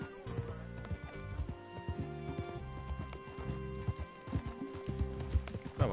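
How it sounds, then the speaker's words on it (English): Horse galloping in the video game Red Dead Redemption 2, with rapid, steady hoofbeats that carry on throughout, mixed with other game sounds. "Me voy con mi caballo."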